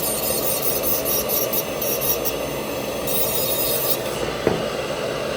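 A dental lab technician grinds a tooth restoration with a small rotary tool, a steady close rasping whir running throughout with a brief sharper scrape near the end.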